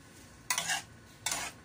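Pancit canton is stirred in a pan, two brief scraping swishes of a utensil about a second apart over a quiet background.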